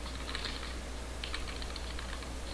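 Keys tapped on a computer keyboard while entering an RSA decryption command for a symmetric key file, with light clustered clicks in two short bursts over a steady low hum, fairly quiet and with no talking.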